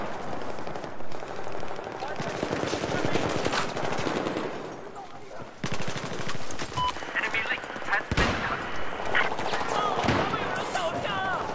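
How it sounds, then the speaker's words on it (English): Unsilenced gunfire in the video game Battlefield 4 rattles in bursts and single shots, some near and some distant, under busy game sounds and a player talking. "I'm hearing unsilenced fire from the ones appearing on the radar."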